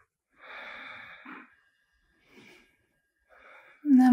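Deep breathing during a yoga practice, with slow, soft inhales and exhales in separate breaths close to the mic and quiet pauses between them, ending in a short louder sound.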